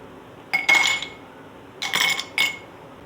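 Ice cubes clink into two serving glasses for a mint syrup drink, a single bright clatter followed by two more quick drops, crisp and close.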